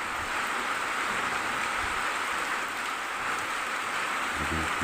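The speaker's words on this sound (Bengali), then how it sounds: "মুষলধারে বৃষ্টি হচ্ছে।" A heavy downpour drums steadily as dense, even rain noise, loud and unbroken, with faint low bumps near the end.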